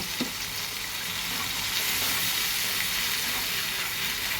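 Spice paste of onion, ginger and garlic frying in a pan, a continuous loud sizzle and hiss with a faint scrape of stirring near the start, no voices.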